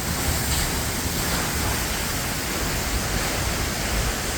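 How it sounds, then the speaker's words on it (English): Water pours down off cliffs and rocks at Perrine Coulee Falls in Idaho, a loud, dense, unbroken roar of falling water heard close up, with no voices. "Water's running down off all these cliffs"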